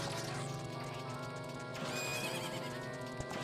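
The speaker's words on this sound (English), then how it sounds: "That horse is getting bombed to death, isn't it?" A horse in a Zelda video game neighs loudly and close, a drawn-out whinny over rhythmic clip-clop hooves and busy game music.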